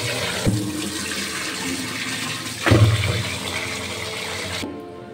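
Water poured into a container of mixed rice and lentils to soak them, a steady rushing splash with two stronger surges, running continuously and fairly close before cutting off near the end.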